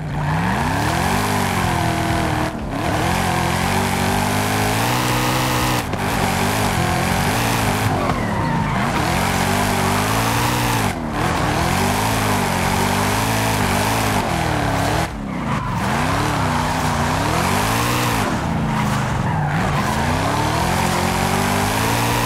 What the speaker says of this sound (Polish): Zmodyfikowałem tutaj wydech tak, żeby brzmiał samochód naprawdę soczyście.